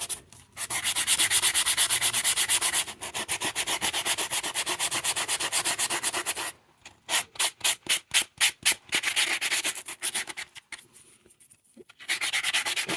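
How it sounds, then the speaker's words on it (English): A foam sander rubs over a hand-carved wooden cardinal figure in a steady, close scratchy hiss, then breaks into quick back-and-forth strokes with short pauses before resuming continuous sanding. "I'm gonna start sanding this and use a foam sander. Just to clean the surface a bit."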